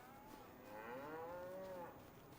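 A Brown Swiss calf on a farm gives one long, drawn-out moo that rises and holds steady, close and clear over faint background noise.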